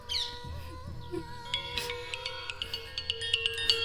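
A phone rings nearby, playing a chirpy electronic ringtone of quick, repeating high beeps that grows a little louder toward the end.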